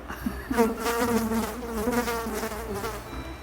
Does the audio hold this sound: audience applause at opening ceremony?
no